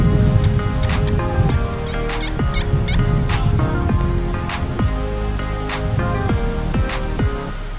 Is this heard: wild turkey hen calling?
yes